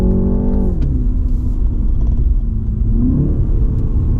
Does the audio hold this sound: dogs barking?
no